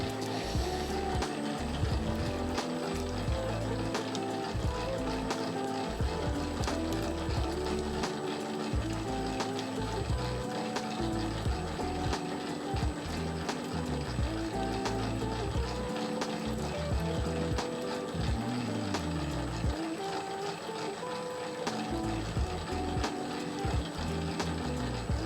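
A Famag IM5S spiral mixer kneads 70% hydration sourdough pizza dough, a continuous mechanical whir with a rhythmic churning and clunking pattern, steady and fairly loud, with no voices.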